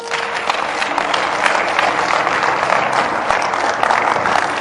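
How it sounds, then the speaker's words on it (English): A church congregation breaks into sustained applause and hand clapping during a sermon, a loud, dense wash of claps that lasts throughout. "Clap your hands."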